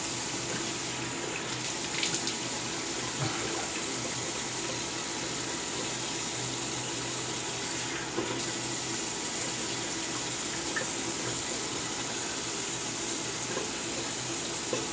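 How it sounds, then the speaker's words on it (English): A bathroom tap runs steadily while a double-edge razor is rinsed beneath it, a continuous close hiss of flowing water with faint splashes lasting throughout, no voices. "let's rinse off."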